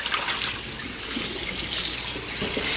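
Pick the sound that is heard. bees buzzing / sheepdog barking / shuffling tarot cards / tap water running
tap water running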